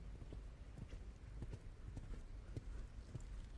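Horse hooves clip-clopping on an arena surface during a dressage test at a junior eventing championship, irregular soft footfalls shifting between walk and canter, fairly faint and distant over a quiet background.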